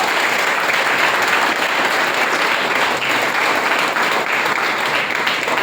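A large crowd applauds continuously, a dense steady wash of clapping that stays loud throughout.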